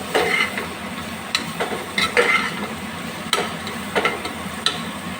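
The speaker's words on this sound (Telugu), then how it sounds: "ఇప్పుడు మనం తయారు చేసుకున్న గ్రేవీని కూడా వేసి కలపాలి." A spoon stirs a flat-bean curry in a pan as gravy is mixed in. There are soft scraping swirls and a few sharp metal taps over a low, steady sizzle.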